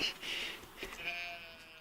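A short, high, slightly synthetic baby sheep bleat from the video game Stardew Valley rings out twice, fairly faint, over quiet background.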